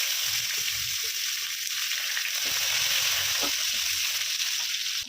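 Onion drops into hot oil already holding bay leaf, cumin and dried chilli, setting off a loud, steady sizzle and frying hiss that runs throughout.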